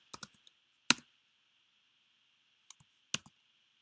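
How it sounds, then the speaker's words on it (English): A few sharp clicks at irregular intervals, a small cluster, then a pause, then two more, like keys struck close by over a steady faint hum. "you could probably hear me type on the keyboard"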